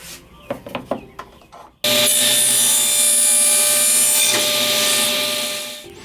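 A power saw cuts 5-inch wood slices set by a stop block on the fence for a hex box: a loud, steady whine-and-rasp that starts abruptly after a few light handling knocks and runs on for several seconds before tailing off.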